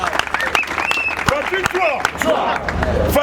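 A crowd at a political rally for a standing parliamentarian claps and cheers loudly and steadily, the dense clapping joined by babble and shouting voices close by throughout.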